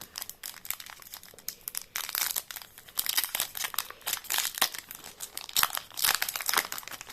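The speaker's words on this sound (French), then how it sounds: "Je vais ouvrir un premier paquet." Yu-Gi-Oh card booster pack being torn open and its foil wrapper crinkled, a close, steady run of crisp crackling and tearing bursts with no talk.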